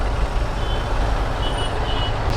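A large vehicle passes on the road, giving a loud, steady close-range engine rumble with broadband road noise across the whole stretch.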